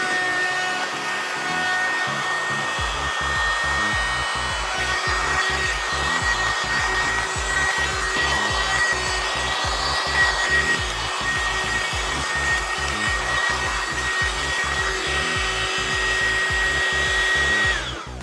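A small USB-powered keyboard dust cleaner whirs continuously at close range, a steady motor hum with a faint rhythmic flutter from its spinning brush, running alone from start to finish.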